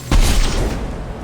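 Fuel tank shot down in the video game Mass Effect 2, a single heavy booming impact followed by a rumbling, fading crash tail.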